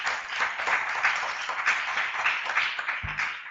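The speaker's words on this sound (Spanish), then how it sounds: "Con lo del psicoanálisis te ganaste el aplauso" Moderate applause from an audience at a meeting, a steady patter of many hands clapping a little way off, with a short low thump near the end.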